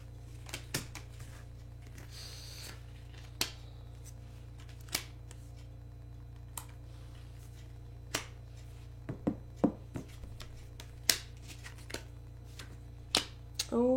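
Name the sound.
cards being turned over by hand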